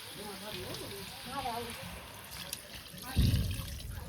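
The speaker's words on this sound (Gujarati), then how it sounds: "હવે નાખવાનું છે પાણી થોડું પકાઈ દઈએ પછી" Water runs and trickles into a pot while someone talks over it, ending in a louder close splash.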